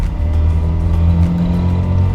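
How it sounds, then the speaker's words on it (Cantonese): Two-stroke engine of a second-generation Mitsubishi Minica 360 hatchback, a steady low buzzing drone with a slight uneven throb, running close by and alone with no talk. "即係二衝程咧引擎嗰個聲咧係而家真係唔會有噶啦"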